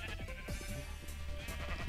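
Sheep in the video game Minecraft bleat in several short, wavering calls that follow one another quickly, up close and clearly heard over a faint background hum.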